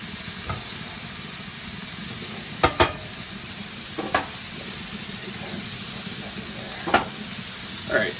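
Food fries on high heat in a badly burnt pan, with a steady hiss and sizzle throughout and occasional sharp knocks and scrapes from stirring, loudest in a quick pair near the middle.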